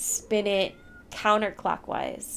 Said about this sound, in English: Sorry about my cat, you guys.